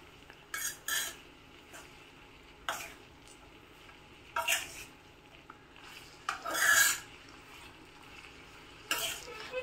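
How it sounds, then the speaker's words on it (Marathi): Chopped onions stirred in oil in a pan for masala pav: a series of short scraping, rasping strokes of a spoon against the pan, separated by quiet pauses, close and fairly soft. "सगळ्यात आधी कांदा मी छान मिक्स करून घेणार आहे, म्हणजे सगळ्या कांद्यांना तेल लागेल अशा पद्धतीने ते मी ढवळून घेणार आहे"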